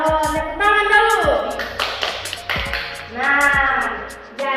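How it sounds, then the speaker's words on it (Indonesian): Young children clap their hands in an early childhood classroom, with a few sharp claps in quick bursts. Their voices chant and call over and between the clapping. "Tepuk tangan dulu."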